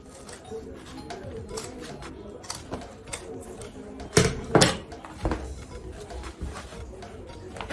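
Scissors snip through Ankara fabric in a run of short, crisp cuts, a few louder closer snips standing out among quieter rustling, close to the microphone.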